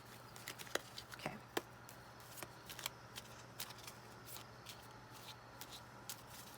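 A small, stiff deck of tarot cards is shuffled by hand, giving quiet, papery riffles and soft irregular taps with a faint steady hum beneath, and no talk.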